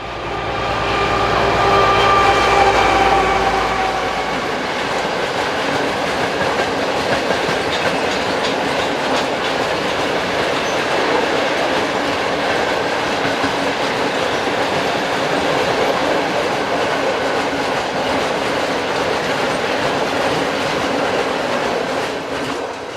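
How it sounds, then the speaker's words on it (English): A pair of Class 740 diesel locomotives heads an eastbound train of chemical tank wagons at Detmarowice, a loud close engine roar at first, then continuous rumbling and rhythmic clickety-clack of wagons passing steadily. "a pair of Class 740 diesels, number 800 and 502, head an eastbound train of chemical tanks"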